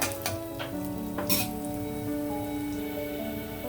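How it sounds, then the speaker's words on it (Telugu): Lentils and dals fry in hot oil for upma after cashews have been browned, giving a loud, steady crackling sizzle with a few sharper spatters near the start, close and continuous with no talking. "జీడిపప్పు ఎగిపోయిన తర్వాత మిగిలిన పప్పులన్నీ కొంచెం వేగాక"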